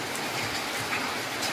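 Steady rain falling as people stand out in it to bathe, a dense, continuous hiss of drops on surfaces, loud and unchanging, with no talk.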